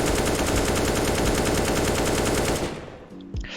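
An automatic rifle fires in a sustained rapid burst during aim practice in a PC shooter game, loud and relentless for about two and a half seconds before cutting off into quieter game sounds.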